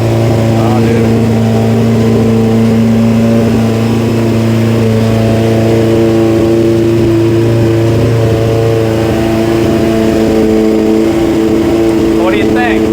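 A 2003 Honda CBR F4i motorcycle engine idling steadily while warming up on a cold day after a rebuild, a loud, close, even hum with a slight lift in revs near the end, with people talking over it.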